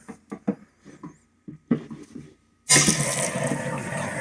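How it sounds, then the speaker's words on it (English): Water pours into a 20 gallon long aquarium. A few soft, brief vocal sounds come first, then a sudden loud, steady rushing gush of water continues to the end. "So let's start putting some water in here."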